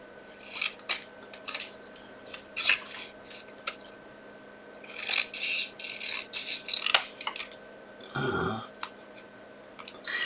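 Scissors snip and rustle through paper in short, irregular bursts, close and fairly quiet, with a brief low thump near the end.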